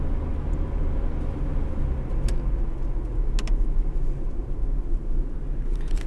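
A car engine rumbles steadily and loudly from inside the vehicle while the driver changes gears, a continuous low drone with no talk over it.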